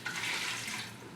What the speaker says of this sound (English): And you're just going to pour enough water so that you cover everything.